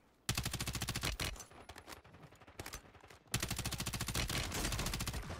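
Rapid automatic MP7 fire in Warzone 3 rattles out in long, loud, tightly spaced bursts, broken by a brief pause and a few shorter volleys.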